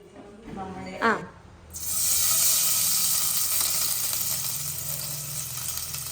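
Chopped onions hit hot oil and burst into a loud, steady sizzle that carries on to the end while crab roast is being cooked; someone talks briefly just before the hiss begins.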